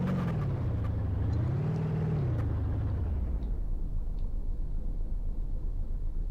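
Turbocharged Hirochi SBR4 car in BeamNG.drive revving and accelerating, engine pitch rising, dipping and rising again before settling into a loud, steady low drone with faint turbo whine on top.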